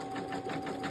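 A Brother Innovis Quattro 3 embroidery machine with a metal magnetic hoop stitches out a design, a brief steady mechanical whir with a rapid pulsing needle rhythm.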